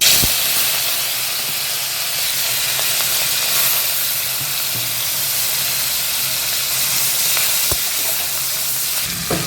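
Prawns hit hot oil in a pan and fry with a loud, steady sizzle and hiss that holds throughout, up close and with no talking.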